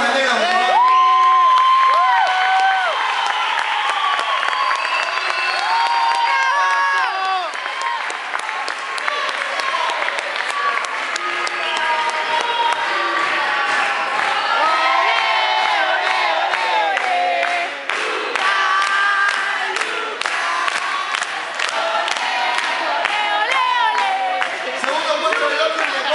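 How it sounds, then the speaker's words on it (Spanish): A crowd at a 2010 old-school graffiti competition applauds and cheers loudly for Mateo, with whoops and shouts rising over dense, steady clapping that keeps going without a break. "Un aplauso para Mateo."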